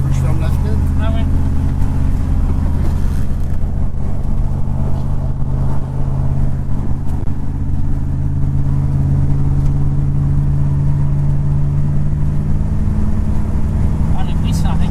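A 1978 Chevrolet Corvette C3 Stingray engine rumbles steadily with a deep, even low drone heard from inside the car while cruising, constant and close, with people talking over it.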